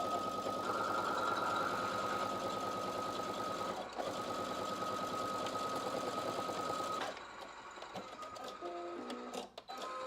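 Sewing machine stitching at a steady fast rhythm, its rapid mechanical whir continuing for several seconds before stopping, followed by quieter clicks and handling noises nearby.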